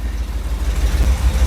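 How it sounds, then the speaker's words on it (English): A 1979 Dodge Ramcharger engine idling with an aggressive exhaust, a loud low rumble that pulses unevenly up close. "I gotta do something with the exhaust. It is aggressive."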